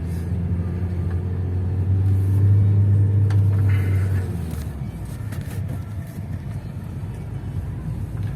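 A car drives a mountain road in Lozère with a steady engine rumble that swells, then drops in pitch as the manual gears shift, loud and close with no talking.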